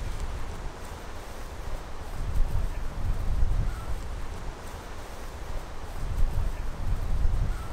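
Gusty wind buffets an open hilltop, a steady low roar with swells of heavier gusts and microphone rumble, no voices.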